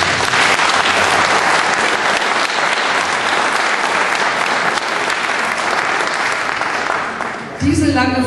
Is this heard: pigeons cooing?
no